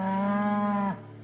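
An ox gives a single long, steady moo, loud and close, ending abruptly after about a second.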